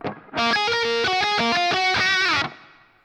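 Strummed electric guitar chords through a free guitar plugin with subtle studio reverb ring out for about two seconds, then stop and fade with a short, soft room-like tail.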